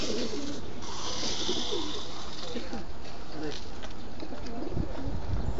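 A flock of racing pigeons coos softly and steadily during feeding at a loft, with a person talking over the continuous bird sounds.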